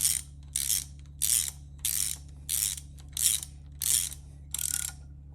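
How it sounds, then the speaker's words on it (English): Ratcheting torque wrench with a T40 Torx bit snugging tapered bolts on an LSA 416ci short block engine: eight evenly spaced bursts of clicking, close and fairly loud over a steady low hum, no talking. "we got our torque wrench. We've got a T40 Torx bit. Gonna tighten all these down."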